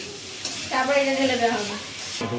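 Cut vegetables being stirred and tossed with spices in a hot pan, a steady soft sizzle with scraping stir strokes close by.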